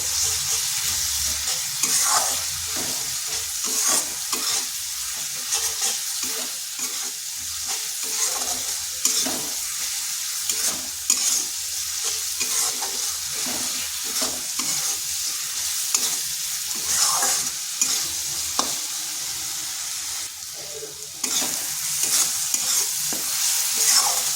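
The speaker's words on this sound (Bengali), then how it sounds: "মশলাটা 3 থেকে 4 মিনিট ভালোভাবে এইভাবে কষিয়ে নিতে হবে।" Spice masala stir-fried in a pan with small splashes of water for an egg and potato curry, a loud sustained sizzle with frequent rhythmic scraping and stirring strokes throughout.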